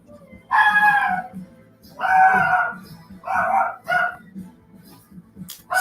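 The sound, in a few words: puppies barking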